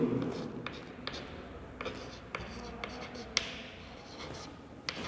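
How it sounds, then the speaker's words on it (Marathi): A pen scratches across paper in short strokes with small taps, close and faint, under a steady background hum with a voice speaking quietly at times. "म्हणून मी इथं लिहितो"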